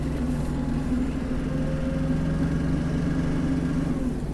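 Kubota KL-33 Japanese mini tractor with its engine running steadily at a constant, even hum while the machine turns, close and loud throughout with no voices.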